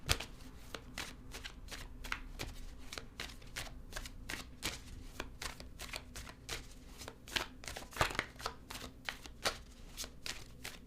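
Tarot cards being shuffled close up, a quick series of crisp, papery riffles and slaps repeating at an uneven rhythm over a quiet room hum.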